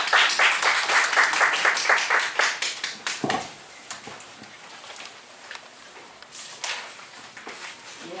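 An indoor audience at a Uijeongbu council debate on a radiation-safe school meal ordinance claps to welcome a speaker. Brisk, close applause lasts about three seconds, then thins to a few scattered claps over quiet room noise.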